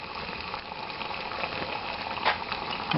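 Water boils in a pot over a homemade white box style alcohol stove, giving a steady, close hiss and bubbling with no talk over it.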